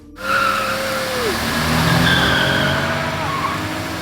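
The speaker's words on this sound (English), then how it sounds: "David and Steve went out again, joyriding the car, testing its limits and smashing the number plate." Car tires screeching in a long skid during reckless joyriding at night, a sustained squeal with sliding tonal sweeps over steady engine and road noise, loud and fairly close.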